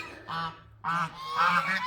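Geese honk loudly and close by, three harsh nasal calls in quick succession with no voices.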